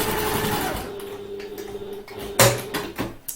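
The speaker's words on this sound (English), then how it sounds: "So I'll do the second line of stitching on that one" A sewing machine runs a second line of stitching along a handbag seam, a steady close whirring hum that stops and restarts with a few sharp clicks and thumps of the fabric being handled.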